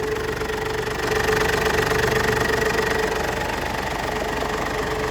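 The 2.5-litre engine of a 2010 Ford pickup idles steadily up close with an even, slightly knocking rumble and no talking.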